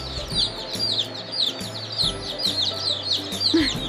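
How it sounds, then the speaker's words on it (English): Tiny baby chicks in a shipping box peep constantly, a dense run of rapid high chirps close by, with a few soft clucking sounds underneath. "You can literally hear them chirping so loud in this box."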